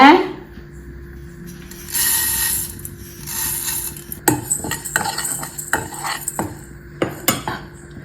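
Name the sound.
dry roasting moong dal in a pan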